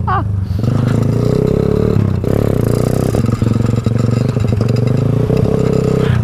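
Small motorized driving beer crate revving hard while popping a wheelie, a loud, steady buzzing engine drone with rattling clatter and scraping throughout, rising and dipping slightly in pitch.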